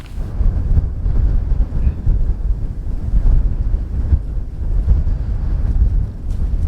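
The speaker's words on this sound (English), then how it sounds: "Oh, it's so windy." Strong wind buffets the microphone in a constant low roar, loud and close, with no other sounds coming through, at a campsite in freezing temperatures.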